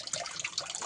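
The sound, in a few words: flowing water at Sudhagad fort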